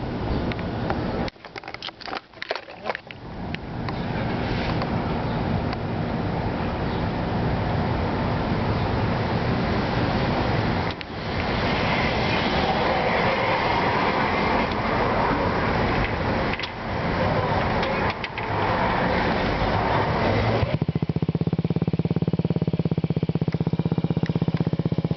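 A 2009 Honda Ruckus 50cc scooter fitted with a Yoshimura TRC aftermarket exhaust idles and runs at close range, giving a steady buzzing engine drone. Its tone shifts near the end as the revs change.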